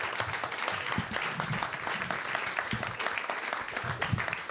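Audience applauds a volunteer named Samantha at a magic and comedy show, a dense steady wash of many hands clapping throughout, fairly loud with no talking over it.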